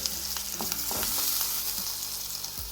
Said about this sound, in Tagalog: Let's begin cooking. Inuna ko yung garlic guys.